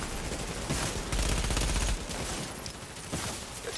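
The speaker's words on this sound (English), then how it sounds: "Yo, I keep getting shot." Sustained automatic gunfire from a firefight in The Division's Dark Zone crackles continuously at moderate volume, with heavier bursts in the middle and a few sharper shots toward the end.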